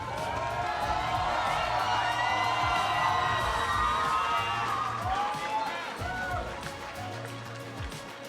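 Large arena crowd at the 2017 League of Legends All-Star event, North America vs. Brazil, cheering, whooping and shouting in a loud sustained roar with scattered claps, swelling and then easing slightly toward the end.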